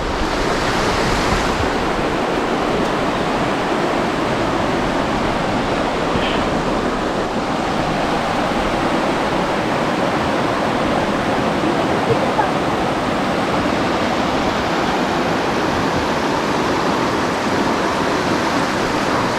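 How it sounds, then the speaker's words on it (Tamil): Water rushes in a stream at the Bétharram caves near Saint-Pé-de-Bigorre, France, a dense, steady roar that fills the whole stretch without pause, loud and close, with no voices heard. "தண்ணி சும்மா அவ்வளோ சூப்பராக போகுது பாருங்கள்"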